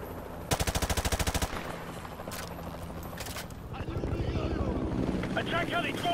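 Rapid machine-gun bursts rattle up close in a Modern Warfare 2 battle, followed by scattered shots and the rising thrum of an attack helicopter.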